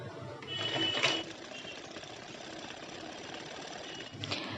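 A sewing machine runs a line of stitching over a blouse strip, a steady, close mechanical whir with a brief louder start, continuing evenly without talk.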